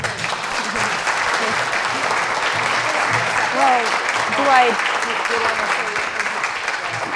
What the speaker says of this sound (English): I want everybody to give her a good round of applause